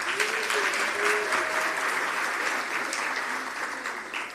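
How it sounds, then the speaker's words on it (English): Steady audience applause at an employee celebration event, a dense, even wash of clapping from a crowd with faint voices mixed in. "Let's give her a round of applause, please."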